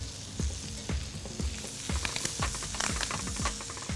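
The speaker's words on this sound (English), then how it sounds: "The first thing in the pan is the thing that takes longest in the pan. Corn goes first." Corn and red pepper sizzling in a hot pan, a loud close crackle with repeated sharp spits and pops and the clatter of stirring against the pan, no talking.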